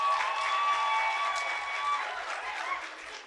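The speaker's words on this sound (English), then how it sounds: "And now a round of applause to all our experts." Audience applause for the experts at a women-in-media event, a broad wash of clapping that holds steady and then fades slightly, with faint tonal hum beneath.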